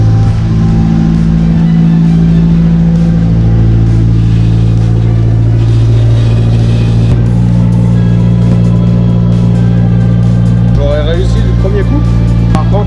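Engine of a VW Golf idling steadily just after starting, a loud continuous low hum with a slight shift in tone partway through, and brief voices near the end.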